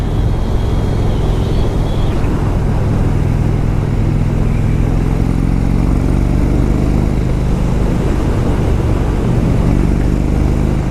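An Indian Chief Vintage motorcycle being ridden on a test drive, with a loud, continuous engine drone mixed with heavy wind rush and no talk.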